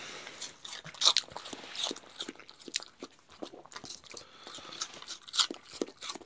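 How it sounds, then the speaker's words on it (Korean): A dog and a person bite into and chew crisp, juicy Singo pear, giving irregular sharp crunches and wet munching close to the ear, with no talking. "지금 우리 아이와 저랑 같이 먹고 있는 배는 바로 저장이 되는 아삭아삭한 신고배입니다"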